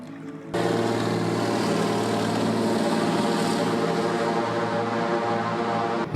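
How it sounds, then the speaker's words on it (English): A float plane's propeller engine roars near a dock. It starts abruptly and then holds a loud, steady drone with a strong buzzing hum from start to finish. "activity on the dock starts early, with float planes and charter boats getting underway"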